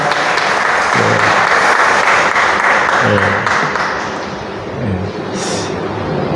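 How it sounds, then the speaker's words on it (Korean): A church congregation applauds during a Sunday service for a thirtieth anniversary, a steady dense wash of clapping from many hands that fills the room and fades slightly toward the end, with a few low voices murmuring beneath. "우리 박수하시겠습니다."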